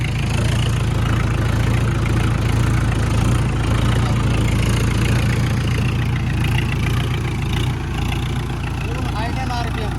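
A Kubota MU4501 tractor idles at very low RPM while a 10-foot rotavator runs, giving a steady, loud low engine drone that holds through the whole stretch with voices audible over it.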